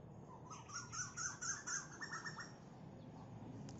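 A bird believed to be a koel calls outdoors, a faint series of about eight quick, clear repeated notes over steady low background noise, fading out after a few seconds.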